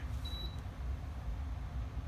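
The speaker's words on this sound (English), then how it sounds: "And the timer went off." A kitchen timer gives a single short, thin beep while macaroni cooks for a tuna mac salad, heard over a steady low background rumble.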